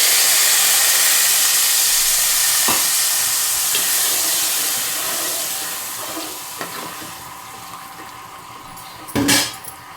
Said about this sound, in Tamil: இப்போ புளியை ஊற்றிக்கணும்